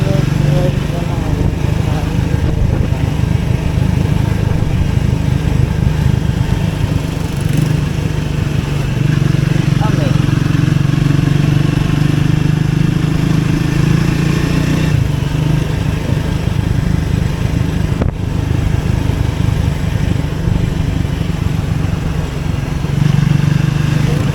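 A Triumph motorcycle rides a curvy route toward Amboori and Neyyar Dam on a group breakfast ride, its engine a loud, steady drone mixed with rushing wind that continues without a break.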